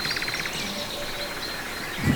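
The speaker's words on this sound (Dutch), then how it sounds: "Je hoort alleen maar vogels, hè?" Small birds chirp and trill in a quick repeated pattern against soft outdoor background noise, moderately distant, with no talk.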